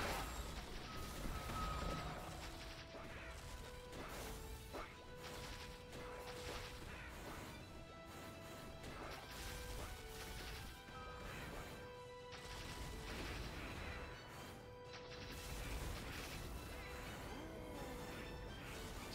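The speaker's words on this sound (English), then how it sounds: "Sounds like the Goblin King has made an appearance" Goblin King boss in MapleStory's Misty Island Chapter 3 smashing walls, heavy crashing impacts and booms repeating over a steady bed of game music and effects, continuous and fairly loud.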